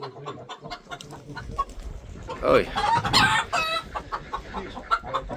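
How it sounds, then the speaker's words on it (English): Chickens clucking and a rooster crowing close by, with a loud burst of fowl calls in the middle and a brief shout from a person. "Chickens."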